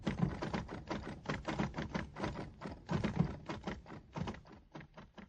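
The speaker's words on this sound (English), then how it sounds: "He's typing." Typing on a typewriter, a quick rhythmic series of sharp key strikes and thunks, fairly close and moderately quiet, with no talk over it.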